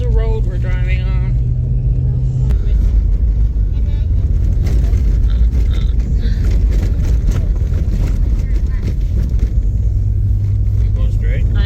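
A car drives along a snowy road, its engine and tyre rumble filling the scene loud and steady from inside the cabin, while people talk over the noise.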